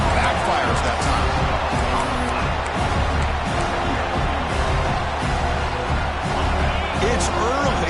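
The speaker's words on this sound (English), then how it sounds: "It's early, but this crowd is fired up. Listen to this noise here." A large stadium crowd at a Penn State football game roars steadily in a dense, far-off wash of cheering and babble, with a commentator talking over it throughout.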